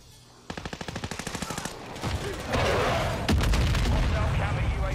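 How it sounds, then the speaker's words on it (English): Rapid automatic gunfire from a video game shooter rattles in a steady burst, followed by a heavy grenade explosion and continued booming blasts, loud and close. "Grenade out!"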